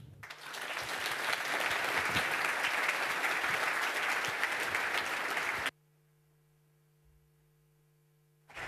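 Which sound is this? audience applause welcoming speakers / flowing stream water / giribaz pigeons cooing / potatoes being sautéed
audience applause welcoming speakers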